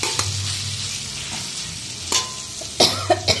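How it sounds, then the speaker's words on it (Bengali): Potatoes and spice masala being stir-fried in a pan, giving a continuous sizzle with a low hum underneath and several sharp scraping stirs toward the end, no one speaking. "দেখো আলুগুলো দিয়ে মশলাটা এখন ভালো করে কষিয়ে জল দিয়ে দেবো।"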